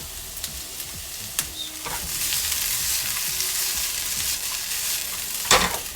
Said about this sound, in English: it is important to make sure you are consistently stirring your potatoes